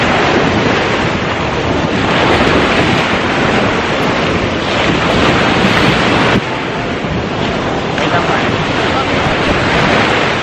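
Ocean waves break and wash in around the feet of someone standing at the water's edge on a beach in Bohol, the Philippines. The surf is loud and steady throughout, with heavy wind buffeting the microphone.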